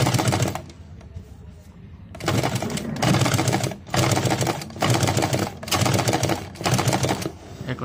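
Sewing machine stitching in bursts, with a rapid mechanical clatter that starts, pauses briefly, and restarts several times, close and fairly loud, on a machine with a faulty lower stitch that skips.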